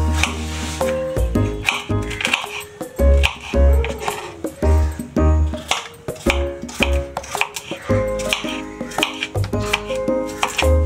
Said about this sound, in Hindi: हम सभी चीजों को इस तरह से रफली चॉप कर लेंगे।